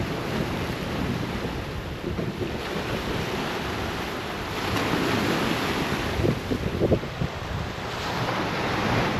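Sea waves at Whitby beach surge and wash in close, with gusty wind buffeting the microphone and a few louder breaking swells toward the end.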